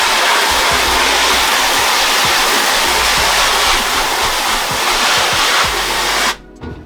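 A strong water spray blasts a screen printing screen to rinse away emulsion, a loud steady hiss close up that cuts off abruptly near the end, no talk.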